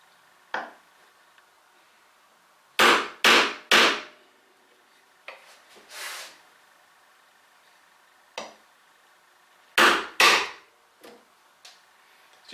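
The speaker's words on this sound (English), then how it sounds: "I'm starting in the middle, and this is a bevel edge chisel I'm using here." Sharp wooden knocks from a bevel edge chisel chopping a mortise, struck in quick clusters of two or three with quieter single taps between, close and fairly loud with no talk.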